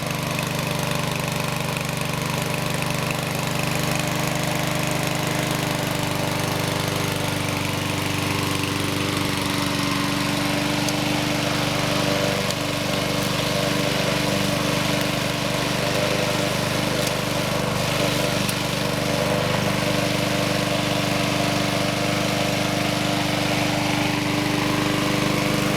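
A Honda HR195 lawn mower engine, freshly repaired, running steadily at a constant idle-like drone with a rough, buzzing mechanical tone, close and continuous for the whole stretch with no voices.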